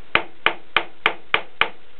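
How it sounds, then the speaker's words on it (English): Connectors are hammered into a wooden shadow box frame with six sharp, evenly spaced taps, close and clear, with no talking. "we can start to hammer the connectors completely in"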